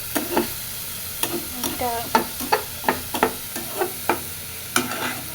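Food fries in a pan in a home kitchen, a constant low sizzle punctuated by a regular series of sharp spatula clicks and scrapes against the pan, roughly two per second.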